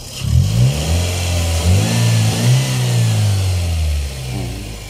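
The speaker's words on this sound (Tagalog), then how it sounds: "Papaandarin natin yung sasakyan." A Toyota Vios engine, just repaired with new ignition coils, runs close by and revs up and down several times in smooth swells over a steady idle, loud and without talk.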